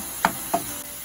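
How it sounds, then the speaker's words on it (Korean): Tofu stir-frying in a pan over medium-low heat: a steady soft sizzle broken by two quick, close spatula scrapes. "두부의 물기가 다 날아갈 때까지 중약불에서 두부를 볶아주세요."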